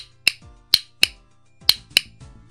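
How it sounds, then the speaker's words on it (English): Five sharp, loud clicks spaced unevenly, each a crisp snap with a short decay, over a faint low hum. "What this little box does is make this insanely loud sound when you click it."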